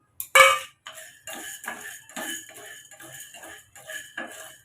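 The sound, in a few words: dry roasting with a spatula in a pan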